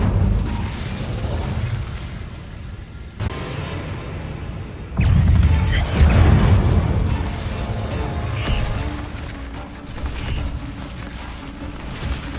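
An Incendio fire spell in Witch Simulator 2023 erupts with a loud, rumbling burst of flame that swells over a crackling, roaring backdrop and then slowly settles into a steady, noisy roar.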